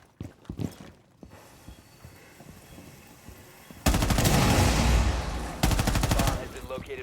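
Automatic gunfire in the video game Rainbow Six Siege, two loud sustained bursts of rapid shots after a stretch of quieter game sounds, close and dominant.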